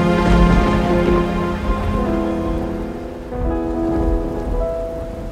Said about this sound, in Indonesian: Angin badai bertiup, laut mengamuk,